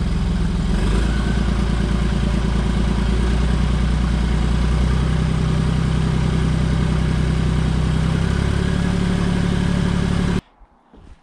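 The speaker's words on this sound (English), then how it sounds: "See how it idles without that exhaust gas going in there." A Smart car engine idles with its EGR valve disconnected, running smooth and even with a steady low rumble and fine regular ticking. It stays loud and close for about ten seconds, then cuts off abruptly.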